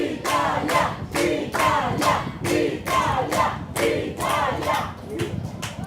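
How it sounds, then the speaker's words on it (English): Rhythmic chanting and clapping from a rugby touch tournament crowd backing Italy, loud rising-and-falling bursts repeating about every half second, with voices shouting throughout. "The crowd getting behind Italy here."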